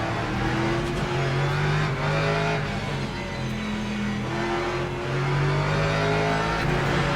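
Race car engines, among them a Lexus, roar in the Le Mans Ultimate sim racing game, a loud continuous drone that swells and shifts with the gears as cars run close together.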